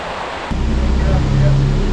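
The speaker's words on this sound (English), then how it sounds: "Look at these little overflows that they have in every single pound that goes over into a main chute" Water spills steadily from the small overflows of the Bingley Five Rise canal locks into a side chute, a broad continuous rushing that swells in after a brief lower-level start and stays loud and close.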